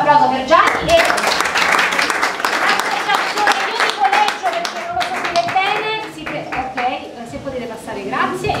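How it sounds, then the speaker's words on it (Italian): A live audience at a cultural event in Somma Vesuviana claps for Gianni and the association, sharp, fairly close hand claps in a busy burst while voices talk and call out over the applause. "facciamo l'applauso per Gianni e l'associazione di collegio"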